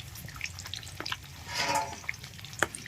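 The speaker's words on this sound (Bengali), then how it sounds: "এবার এটা খুব ভালো করে মাখিয়ে নিয়ে তেলে ভাজবো।" Spiced chicken frying in oil, giving a soft, steady sizzle with scattered pops and a brief louder burst of crackling in the middle, close and quiet.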